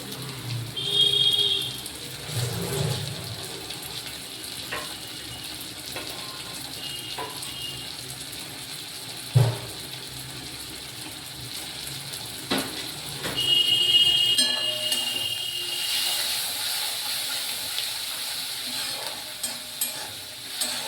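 Boiled taro greens cook in a pan with hilsa fish oil, a soft sizzle running under occasional spatula scrapes and stirring clinks, with a couple of sharper knocks along the way.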